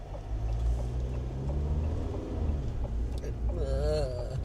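A heavy vehicle engine rumbles low and steady close by, with a voice speaking briefly near the end.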